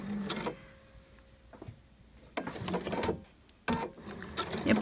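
A domestic sewing machine edge-stitches around Liberty fabric for a homemade shirt, running in short, quiet bursts of whirring with brief pauses between.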